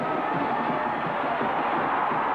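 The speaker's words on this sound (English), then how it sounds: "And their fans are here screaming today" A dense, steady roar of college football fans screaming and cheering in a stadium at Clemson versus North Carolina in 1981, loud and continuous with no breaks.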